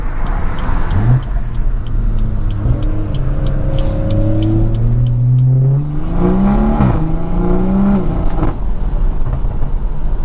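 A BMW 340i with a B58 engine and loud aftermarket exhaust idles with a deep, throaty rumble while warming up, rising and falling with a few light revs, close and steady throughout.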